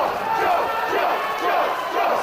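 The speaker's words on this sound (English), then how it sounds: "Listen to the crowd." A wrestling crowd at an Iron City Hardcore independent show cheers and roars steadily through the whole moment, a loud continuous wash of voices with swelling shouts.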